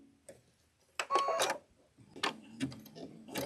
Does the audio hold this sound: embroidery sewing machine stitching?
yes